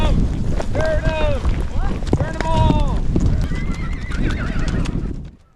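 A herd of horses gallops past with steady hoofbeats while several horses neigh and whinny, up close and loud, with wind buffeting the microphone and a voice calling out during a horse drive.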